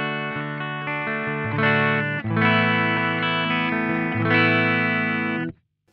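Clean electric guitar through a Synergy BBB module modeled on a Friedman clean channel: a few sustained, strummed chords ringing close and clear, then cut off abruptly at the end.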